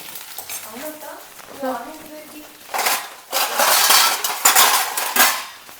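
A metal lid clanks onto a cooking pot in a home kitchen, a burst of loud, close rattling and knocking that follows a stretch of talking.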